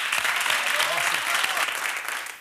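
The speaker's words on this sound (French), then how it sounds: "je crois que ça mérite des applaudissements" Television studio audience on a French variety show applauding a journalist, a loud, continuous wash of clapping with brief voice-like tones woven through it.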